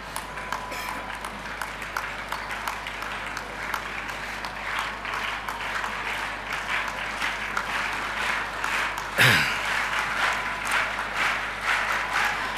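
Steady audience applause fills a ceremony hall in India, dense, even clapping that carries on throughout with a brief louder burst near the end.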